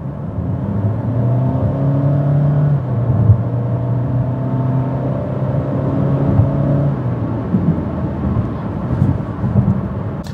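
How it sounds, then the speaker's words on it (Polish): Loud cabin drone of a 2024 Honda HR-V engine accelerating, its pitch climbing and then dropping back at each gear change, a steady continuous roar with no talking. "Nie wiem, na ile to się nagrało, ale dźwięk i takie odczucie zmiany biegów tutaj jest."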